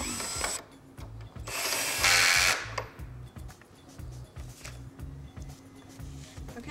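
Screws driven in while assembling a chicken coop, wheels being attached, make a close ratcheting, whirring tool sound in short repeated bursts with brief pauses between them.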